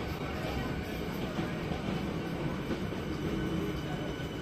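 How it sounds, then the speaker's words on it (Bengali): An AC local train at platform 1 of Kalyani station on the Sealdah main line, Eastern Railway, in India, gives a steady low rumble under busy platform noise with faint voices throughout. "इतिमধ্যেই किन्तु कल्याणी स्टेशने एसी लोकल ढुके गेछे तार 1 नम्बर प्लैटफर्मे"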